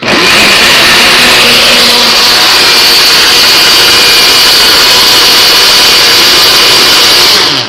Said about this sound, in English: I'm going to use, right this second, the crushed ice. Because I want my ice to be very crushed. So, excuse me for a minute, I'm going to blend.